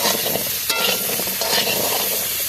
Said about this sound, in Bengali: কড়াইতে তেল দিয়ে মিষ্টি কুমড়ো আলুটাকে দিয়ে দেব। দিয়ে ভালো করে একটু নেড়ে চেড়ে নেব।